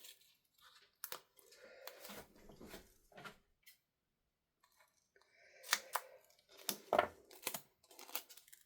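Card stock is cut in two with scissors during cardmaking: a few quiet snips and crinkles broken by short pauses, close up, with no talk.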